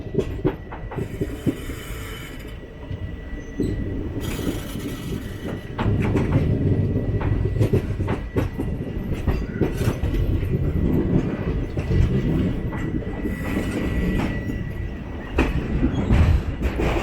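The 22628 Trichy Intercity Express runs along a bypass line near Nagercoil, heard from inside an AC chair car as a steady loud rumble with rhythmic wheel clatter and occasional squeals.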